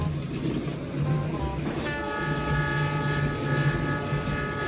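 A toy CC206 locomotive running on a model railway track, with a steady rattling clatter of wheels on rails and several whistle or horn-like tones sounding over it.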